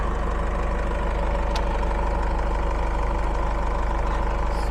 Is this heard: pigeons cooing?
no